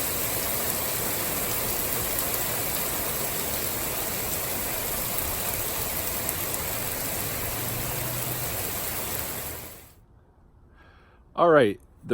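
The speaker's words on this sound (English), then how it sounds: "Here comes the rain again" Steady rain pours down outside during a thunderstorm, a dense even hiss that fills the first ten seconds before cutting off abruptly, followed by a brief voice.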